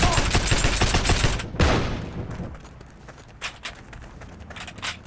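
SMG fire in the video game Heroes & Generals rattles out in a fast, loud burst, then stops, and a few scattered shots and clatters follow more faintly.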